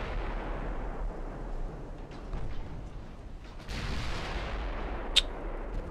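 Naval gunfire in the warship game Ultimate Admiral Dreadnoughts, with muffled distant cannon booms and rumbling shell impacts spread through the scene, then one sharp metallic ping as a shell ricochets.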